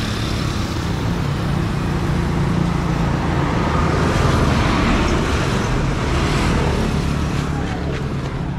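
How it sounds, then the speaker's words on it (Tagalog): Motor vehicles, likely motorcycles, speed past on a straight road, a steady loud roar of traffic throughout with no clear gaps. "Bibilis sa mga motor dito."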